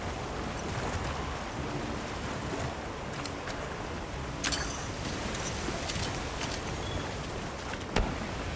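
Heavy rain downpour in the video game Monster Hunter Wilds, a steady broadband hiss of falling water with a few sharp clicks and brief bursts standing out, no talk.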